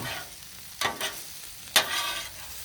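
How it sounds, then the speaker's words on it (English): Onions, peppers and ground beef sizzle steadily on a Blackstone griddle, a close, constant fry punctuated by two sharp spatula scrapes. "the onions and the peppers and the ground beef, but the onions and peppers on the griddle"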